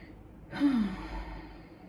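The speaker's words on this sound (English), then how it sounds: "So just going to take a deep breath here." A single deep breath drawn in and let out as a slow sigh, close and fairly soft, rising suddenly from near silence and fading over about a second.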